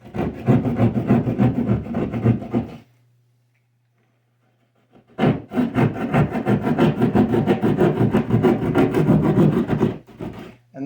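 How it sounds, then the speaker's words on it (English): A small keyhole saw cuts through drywall while an electrical outlet is being installed, making fast rhythmic rasping strokes close by, then a pause of about two seconds before the sawing resumes just as steadily. "this is just a small keyhole saw for drywall"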